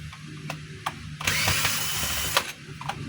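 A power tool loosens the field coil screws on a DeWalt D28720 14-inch chop saw, with short clicks followed by a whirring burst of about a second, heard up close.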